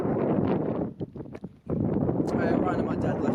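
Strong wind roars across an exposed summit, a loud steady rush buffeting the microphone with a brief lull midway before gusting back in. Near the top of Mt Kosciuszko, Australia's highest peak.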